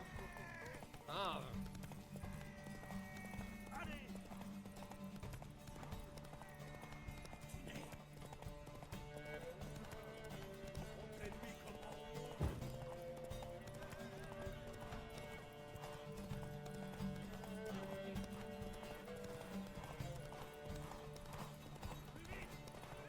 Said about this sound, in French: Allez, course de cheval.